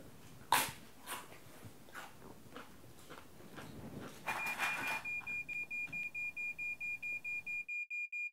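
A carbon monoxide alarm beeps in a fast, even series of loud, high electronic tones, taking over after several seconds of dull thumps and rustling and then cutting off abruptly.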